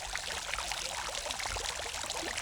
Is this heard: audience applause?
no